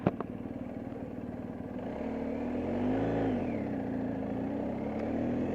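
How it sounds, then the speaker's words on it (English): A rider on a 2020 BMW R1250GSA Adventure with the HP package: a clunk at the start, then a steady engine drone that swells as the bike accelerates, heard near with road and wind noise and no speech. "right now I'm riding my 2020 BMW R1250GSA Adventure with the HP package"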